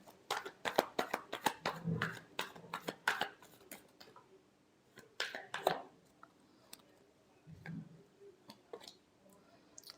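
Tarot cards being shuffled by hand, with rapid close flicks and riffles in bursts followed by softer handling sounds, and faint speech in between.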